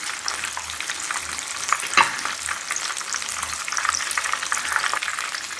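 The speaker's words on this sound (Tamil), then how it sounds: "அதனால் அடுத்த ஸ்லோவில் வச்சு பொறுமையாக நம்ம இதை வறுத்தெடுக்கணும்" Chicken drumsticks coated in masala fry slowly in oil over a low flame, a soft, continuous crackling sizzle up close, with one sharp clink of a spatula midway and no voices.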